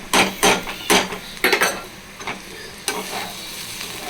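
Green beans and a little grated coconut stir-fried in a pan, with a spoon scraping and stirring in several quick bursts over a low, steady sizzle, close up.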